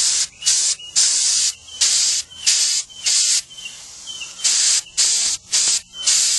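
Repeated bursts of aerosol spray paint hissing onto a rusty Jeep Wrangler grille cover, about a dozen short blasts with brief pauses between them, close and fairly loud.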